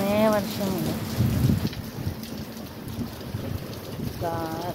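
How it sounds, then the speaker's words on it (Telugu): Steady heavy rain hisses throughout, with low thunder rumbling beneath; a voice briefly speaks at the start and again near the end. "ఇప్పుడు 4 రోజులు పూరా కుండపోత వర్షం నాన్ స్టాప్గా ఎక్కువ"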